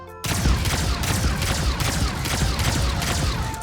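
Charging energy cannon in the mobile game Sausage Man fires a steady run of loud, punchy shots about every half second, with a dense crackling burst behind each blast and no pauses across the stretch.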